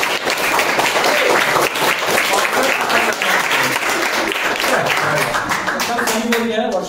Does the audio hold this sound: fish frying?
no